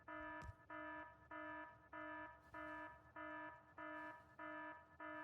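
An alarm in the video game Factorio beeps in a steady repeating pattern, about nine evenly spaced tonal pulses with short gaps, faint and clean with no voices over it.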